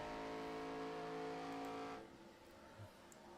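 Race cars including a Toyota Camry roar past on an ARCA Series oval, a loud steady engine drone that drops away sharply partway through, leaving a fainter rumble behind.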